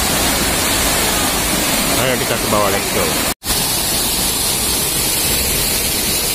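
Leke-Leke waterfall in Tabanan, Bali: a loud, steady, broadband roar of falling water close by, with a person talking briefly over it and a momentary cut in the middle.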